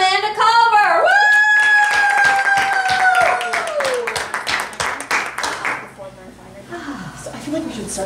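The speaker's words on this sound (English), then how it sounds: "Why is everybody clapping?" Applause for the early bird winner in a bingo hall: a whoop of cheering voices gives way to several seconds of steady, close hand clapping that fades out near the end.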